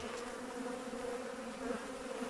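Honeybees hum in a steady, continuous drone close to an apiary hive, with no voices.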